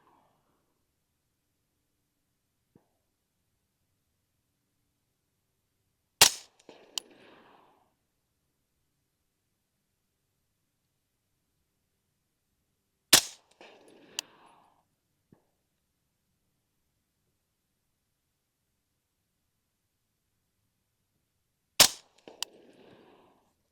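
An LWRC M6A3 DMR rifle fires three single shots at a target, each a sharp crack followed by a brief echo, spaced several seconds apart against near silence.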